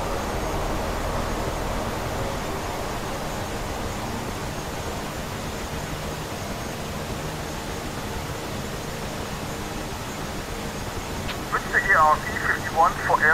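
A jet aircraft engine idles while taxiing in the DCS flight simulator, a steady broad rushing hum held throughout, with radio chatter bursting in near the end.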